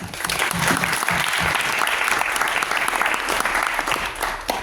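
A crowd at a live demo night claps steadily in warm, sustained applause, dense and even throughout, fairly close.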